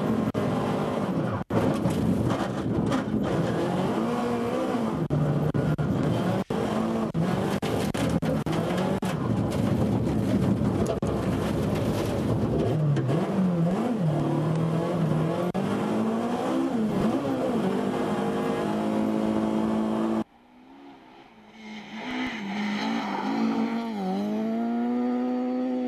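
Rally car engines rev hard on a snowy stage of the 2011 Finnish F Cup Salpausselkä Rally, droning and sweeping in pitch through gear changes, then dropping to a quieter, more distant revving near the end.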